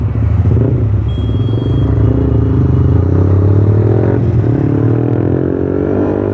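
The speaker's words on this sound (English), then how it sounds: "Now let's try out the engine and then see if it works." A Yamaha motorcycle engine runs close by, a loud, steady rumbling drone with a buzzy harmonic texture that climbs slightly in pitch toward the end as the revs rise.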